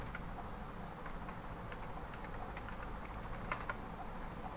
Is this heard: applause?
no